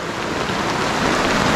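Heavy rain pours down in a rainforest as a dense, loud, unbroken hiss with no gaps.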